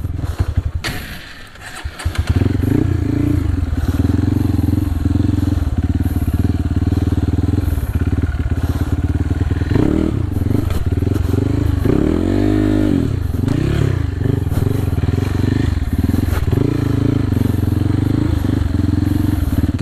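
A motorcycle on a blocked off-road trail stalls briefly, then its engine roars back and revs repeatedly, loud and close, with rising and falling throttle bursts and some clatter.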